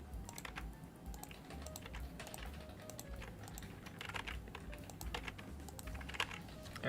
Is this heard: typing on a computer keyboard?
yes